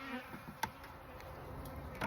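A honeybee swarm hums steadily and quietly at close range, a continuous insect drone with a few brief knocks and clatters during hive work.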